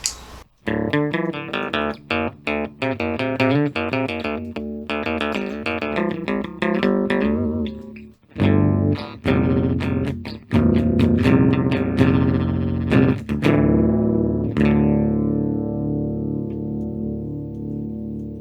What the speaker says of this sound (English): Let's hear the default or the bass modulation sound or ring mod sound